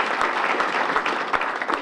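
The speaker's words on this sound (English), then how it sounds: "yes please, round of applause" An audience at a green-tie gala claps loudly and steadily for a short burst, with dense overlapping hand claps and no voices.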